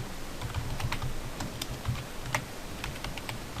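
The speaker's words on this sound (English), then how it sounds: "Now I can type it in." Typing on a computer keyboard, a brisk irregular run of light key clicks heard close and alone.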